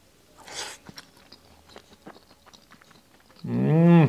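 Close, wet chewing and soft crunching of dal fry with tadka, small irregular bites and mouth sounds over a few seconds, ending in a loud burst of a drawn-out exclamation.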